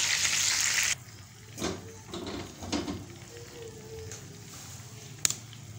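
Gola kababs are fried on their second side in a pan. A loud hiss at the start drops quickly to a softer, steady sizzle, with a few stirring scrapes and one sharp clink.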